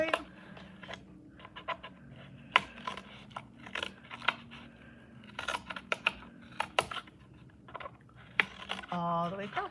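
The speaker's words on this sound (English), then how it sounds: "So put your scissors on and cut." Scissors snip through a paper cup in a run of sharp, close clicks and crisp cuts, irregular in rhythm, with quiet voice sounds and handling noise between them.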